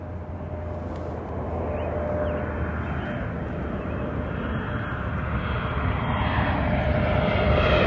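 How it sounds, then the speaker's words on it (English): A large airplane passes overhead above the Snake River in Idaho, its engine roar steady and broad, slowly growing louder and closer over several seconds with no talking. "big plane."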